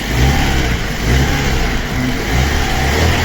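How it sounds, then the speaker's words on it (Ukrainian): A Fiat Panda 1.1 8-valve engine with a flooding, too-rich mixture runs roughly up close, its loud, uneven rumble surging and sputtering in a lumpy rhythm. "двигун наш прям дуже тяжко працює, його просто заливає"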